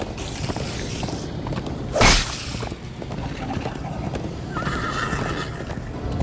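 A horse in the Minecraft Story Mode video game gallops with rhythmic clip-clop hoofbeats, then lets out a loud whinny partway through, with game music and effects underneath.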